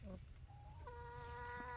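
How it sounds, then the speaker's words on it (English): A chicken in a garden gives a drawn-out, tonal clucking call, close and fairly quiet, over a low background rumble. "the chickens are enjoying it, getting out here"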